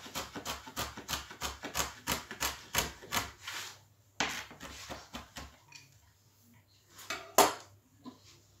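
A knife chops about ten grams of rosemary on a board, producing a steady rhythm of crisp clacks for several seconds, then a few sparser louder chops, close and clear with no voices.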